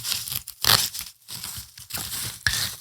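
Velcro on an HRT Tactical Gear RAC plate carrier being attached, several short rasping rips and crackling bursts up close, with no talk.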